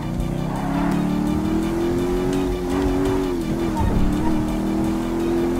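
A powerful motorcycle engine in GTA V, droning loudly and steadily at close range with small rises and dips in revs over several seconds, no speech heard.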